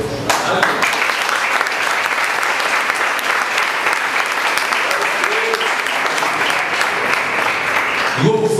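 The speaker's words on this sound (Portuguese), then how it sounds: "Eu agradeço a oportunidade das palmas para Jesus" A church congregation applauds for Jesus in sustained, loud, even clapping that holds steady for several seconds, with faint voices mixed beneath.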